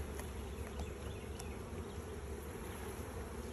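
Honey bees buzz in a dense, steady drone during a nuc hive check, a continuous close hum with occasional individual bees flying past.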